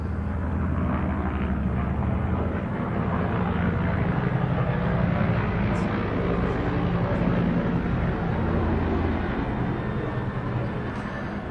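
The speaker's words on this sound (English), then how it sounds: "I think Secretary Gertz pulled out a SOCOM flyby just at the last minute here." A military SOCOM aircraft flies over a NAVSEA change of command ceremony with a loud, steady roar that fills the whole stretch. No voices are heard.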